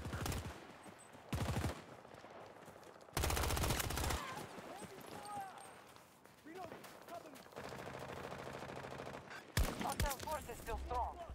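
Gunfire in the shooter game Battlefield 2042 crackles in bursts: rapid machine-gun volleys and single shots come in clusters, loud and close at times, with game voices and battle noise between them.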